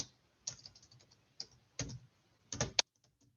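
Computer keyboard typing comes in short bursts of crisp key clicks separated by quiet pauses, close and fairly soft, with no talking.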